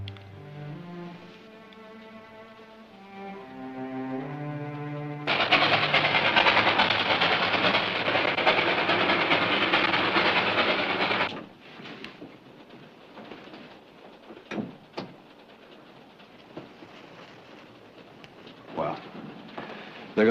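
A train bound for Sacramento runs on the rails: after a musical passage, a dense, loud rumbling roar holds for about six seconds, then drops to a quiet background with occasional clicks and knocks.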